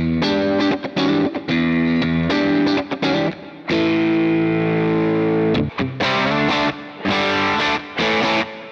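Overdriven electric guitar through a Jam Pedals Rattler ltd pedal playing choppy rhythm chords, short stabs and a sustained chord, crunchy and loud, no voices.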